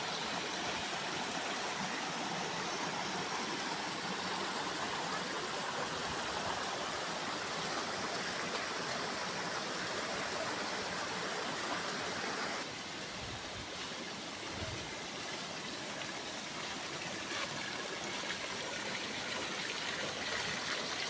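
Clear stream of water flows steadily at a campsite at Camp Bravo in Cidahu, Sukabumi, a constant loud rushing and trickling wash that fills the whole stretch with no talk.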